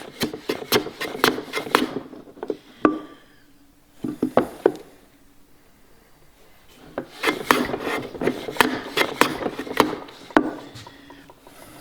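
A hand plane shaves a wooden workpiece on a woodworking sharpening station, stopping just short of the end so the fibers don't break off. Quick rasping strokes come in two close, rhythmic bursts separated by a quieter pause with a few isolated scrapes.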